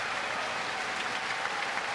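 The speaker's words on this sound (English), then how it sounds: "So the crowd will give Castillo a nice round of applause." Stadium crowd applauding at a Reds–Brewers baseball game in Cincinnati, a steady, dense wash of clapping that holds evenly for the full couple of seconds without a break.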